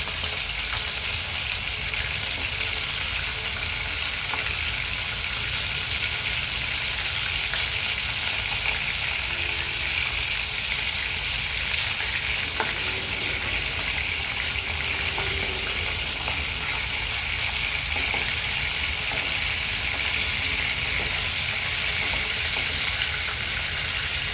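Chicken kofte fry in hot oil in a pan, giving a continuous, loud, close sizzle with a dense crackling hiss that holds steady throughout, with no talking.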